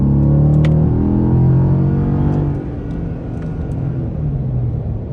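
A Hyundai Genesis 4.6 V8 sedan accelerates hard in manual mode, the loud engine note climbing steadily through the revs and easing briefly at a shift before pulling on again, heard from inside the cabin.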